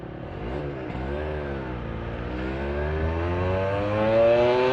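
Yamaha RD 125 LC two-stroke motorcycle engine droning steadily while riding, pitch rising and falling through gear changes then climbing under acceleration, loud and close with no voices.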